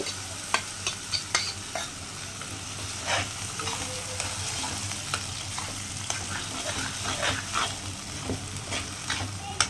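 Masala paste for a Tamil okra tamarind curry (vendakkai puli kuzhambu), with fenugreek, sizzles steadily in a pan while a spoon scrapes and stirs it in a run of short, close clicks and knocks.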